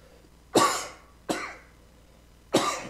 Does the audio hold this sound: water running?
no